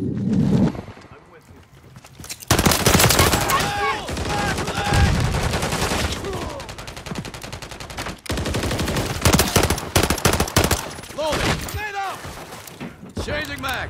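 Rapid machine gun fire in a first-person shooter video game, loud dense bursts with brief gaps and scattered shots, mixed with shouted voices throughout.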